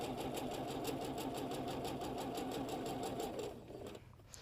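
A sewing machine stitches a quilt block seam with a steady, fast mechanical whir and rhythmic needle ticking up close, then slows and stops near the end.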